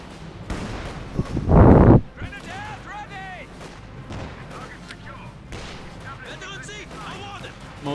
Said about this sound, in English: More shooting going on.